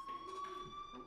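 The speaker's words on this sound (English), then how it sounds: "Do you hear that fire alarm? That means you should be outside." A fire alarm rings in the video game Life is Strange, a steady high electronic tone held throughout at moderate level, with talk and other game sounds around it.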